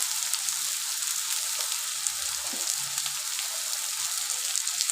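Cumin powder sizzling in oil in a frying pan while preparing a fish roe kofta curry, a steady hissing crackle that holds evenly throughout, close and fairly quiet with no talk.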